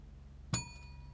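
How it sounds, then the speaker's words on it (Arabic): A hand bell is struck once gently, giving a single soft ding that rings on with a thin sustained tone over a low background hum. "لدينا جرس يدوي، نريد أن نطبق الحالتين"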